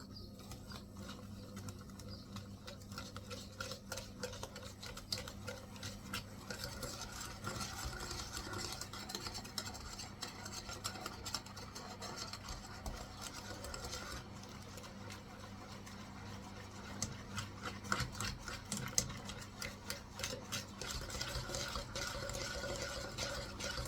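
Flan batter with milk is stirred in a bowl, giving a faint, steady run of soft scraping and swishing strokes that continues without pause and without voices.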